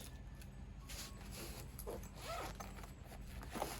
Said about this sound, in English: And the zipper pouch here on the briefcase